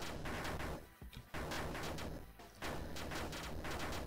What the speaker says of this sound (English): That's the grenades, by the way.